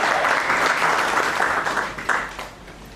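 Loud, dense applause from an audience at an official-language implementation committee meeting and award ceremony in Delhi, steady clapping filling the room throughout before tapering slightly at the end.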